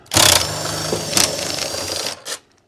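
A 3/8 inch socket driver backs a 3/8 inch bolt out of a rooftop RV air conditioner, with a close, loud buzzing whir in a few bursts and short pauses, the last burst brief.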